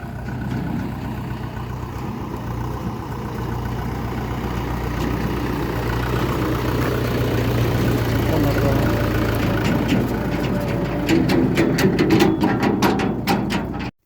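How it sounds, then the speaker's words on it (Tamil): A Mahindra tractor engine rumbles low and steady as it approaches across a cassava harvest field, growing slightly louder, with people talking over it throughout. "இந்த பக்கம் பார்த்தீங்கன்னா வண்டி வந்துட்டு இருக்குது"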